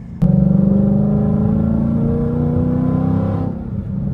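A car running on E85 fuel accelerates hard at part throttle, its engine note loud, close and steady, rising slightly in pitch over about three seconds before easing off.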